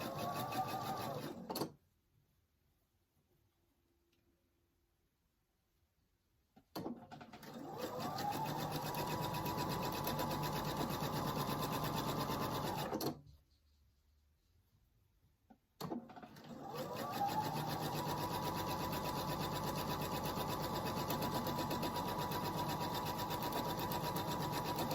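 A sewing machine stitches a quilt block with a quarter-inch seam in two long steady runs of fast, even motor-driven stitching, broken by brief silent pauses.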